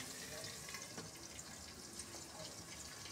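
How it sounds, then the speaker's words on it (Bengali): Water is poured into a pot of braised meat curry cooked with turmeric and chili, giving a steady running, splashing wash that stays fairly even and quiet from start to finish. "এখন পরিমাণ মতো পানি ঢেলে দিতে হবে"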